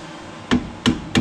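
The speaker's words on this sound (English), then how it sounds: "just take our mallet here" Three firm, dull taps from a rubber mallet driving a rear wheel bearing into a 1983 Honda Big Red, evenly spaced about a third of a second apart, close by and fairly loud.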